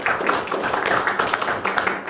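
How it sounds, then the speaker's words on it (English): People at a township trustees meeting in Ohio give a short round of applause, a modest crowd's clapping that runs steadily throughout, with faint voices underneath. "I think that deserves a round of applause"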